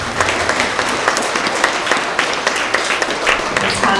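Dense applause from a school assembly audience of third to fifth graders and families honoring a student, steady and full throughout, with scattered individual claps standing out.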